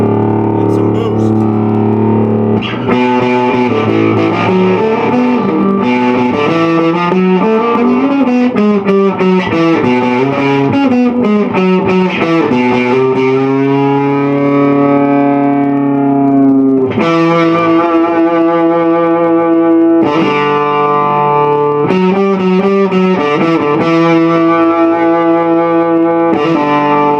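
A Godin Solidac electric guitar with a boost effect rings out loud, crunchy rock chords with some reverb, played continuously with sustained notes and rhythmic strums.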